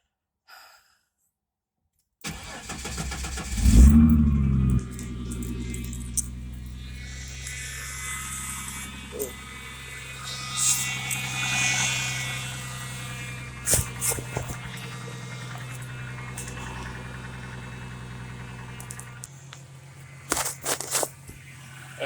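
Ford Mustang SN95 engine cranking and catching after a silent start, then settling into a steady low running hum for the rest of the stretch, muffled as if heard from a pocket, with brief knocks and rustles.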